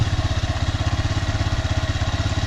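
A Tornado 250cc Chinese quad engine idles close by with a fast, even, pulsing chug and no other sounds.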